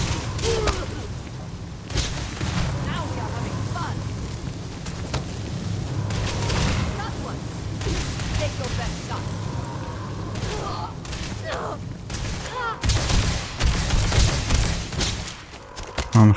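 Sustained gunfire from a Starfield firefight, dense overlapping shots and booms running continuously at close range, with bursts intensifying toward the end over a low rumbling background.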